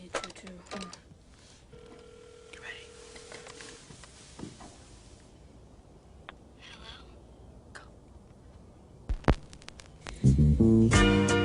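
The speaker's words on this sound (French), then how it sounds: "We called them on the telephone." A telephone in a film scene sounds a faint steady ring tone and a few dialing blips amid quiet room noise and ticks, ending with a burst of loud music near the close.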